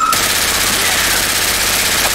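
Rapid, loud automatic gunfire in the co-op zombie shooter Left 4 Dead 2, a continuous close-range stream of shots with a voice underneath.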